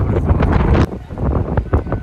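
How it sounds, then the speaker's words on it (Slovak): Gusty wind buffeting a microphone outdoors on a summer holiday in Makarska, Croatia, a loud low rumble in bursts that drops briefly near the middle before gusting again. "Zase vietor."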